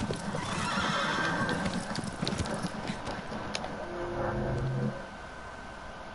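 A horse in the video game Shadow of the Colossus whinnies loudly, with hoofbeat clip-clops and game ambience, and the sound drops off abruptly near the end.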